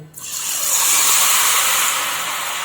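Ghevar batter poured from a height into very hot ghee erupts into a loud, steady sizzling hiss that starts abruptly and stays close and continuous.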